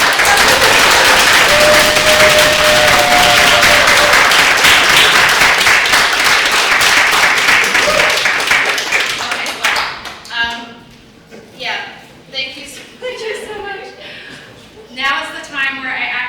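An audience at a book launch event for a Chinatown mapping project breaks into loud, sustained applause that fades after several seconds into scattered claps as people begin talking.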